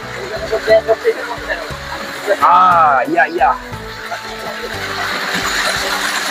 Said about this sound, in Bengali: ঝর্ণা শব্দ শুনতেই পাচ্ছেন বন্ধুরা